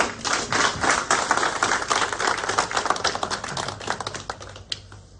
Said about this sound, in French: Veuillez l'applaudir, s'il vous plaît.